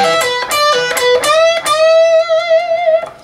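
Clean-toned electric guitar riff played alone, with quick picked notes, string bends and a sustained vibrato note ringing out near and clear.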